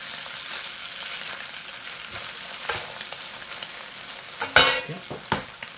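Pad Thai with chicken and bean sprouts tossed with tongs in a hot pan, a steady sizzle with scraping stirs and a sharp louder clatter near the end.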